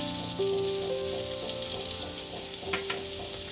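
Gunda fruit frying in hot oil in a home kitchen, a steady soft sizzle with faint crackles continuing evenly, no voices.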